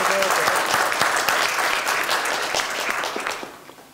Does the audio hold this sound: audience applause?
yes